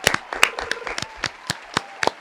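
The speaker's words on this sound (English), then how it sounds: "Let me go ahead and clap it up for the champ" A few sparse, uneven hand claps ring out close by, scattered sharp slaps with gaps between them rather than a full crowd ovation.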